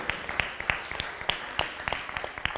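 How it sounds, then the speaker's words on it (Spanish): Sparse audience applause at a religious sermon, scattered individual claps rising irregularly over a quiet room tone, fairly faint and brief. "Denle un aplauso al Señor."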